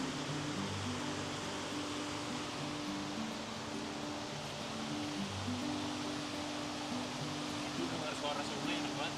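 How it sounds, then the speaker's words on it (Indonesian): A mountain river in southern Poland rushes in a steady, dense wash of flowing water close by, with people's voices talking over it throughout. "tidur dengan suara sungai"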